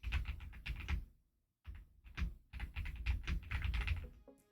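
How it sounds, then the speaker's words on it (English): Someone types on a computer keyboard, close and distinct. Bursts of rapid clicking break for a short pause and then carry on. "Yeah, the typing you hear."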